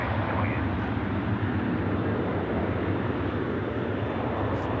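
A jet airliner roars at Dallas Fort Worth airport, a loud, dense, sustained engine rumble with steady broadband noise that holds throughout, close and overpowering, with faint radio talk beneath.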